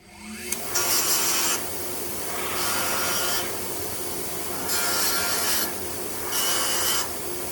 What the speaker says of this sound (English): We'll go to the wire wheel, clean all that little dabs of glue off